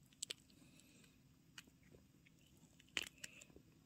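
A few sharp, crunchy bites into a crisp fried dumpling, close and fairly quiet, separated by pauses of near silence.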